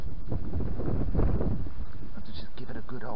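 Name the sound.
wind blowing outdoors into the microphone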